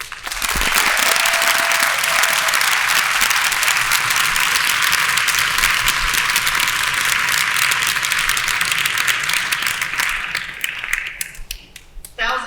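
An audience at a high school band concert breaks into sustained applause, dense clapping that holds steady for about ten seconds before thinning out at the end.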